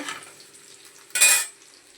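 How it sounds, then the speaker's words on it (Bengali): Potatoes and onions sizzle steadily in hot oil, with a brief louder scrape of stirring partway through; no one speaks. "এখানে দেখো আলু পেঁয়াজ ভাজছি"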